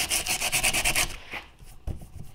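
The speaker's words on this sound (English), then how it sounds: "So I've been just using this 60 grit sandpaper" A railroad spike is rubbed with 60 grit sandpaper, giving quick rhythmic rasping strokes for about a second, then a few slower scrapes, close and alone.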